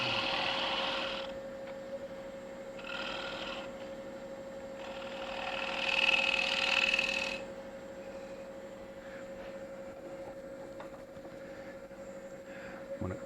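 Wood lathe turning the bottom of a wooden wine caddy, a steady motor hum with a constant tone under bursts of scraping and hissing as the gouge rides the bevel across the spinning piece.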